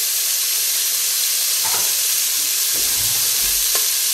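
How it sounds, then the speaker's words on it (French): Bell peppers frying in a hot pan with a splash of water, giving a loud constant sizzle and hiss while a utensil scrapes and stirs them in a few distinct knocks toward the end. "Je jette les poivrons dans la poêle et je remue"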